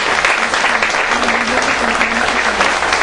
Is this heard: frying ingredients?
no